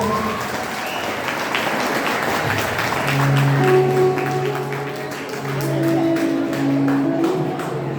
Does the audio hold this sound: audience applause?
yes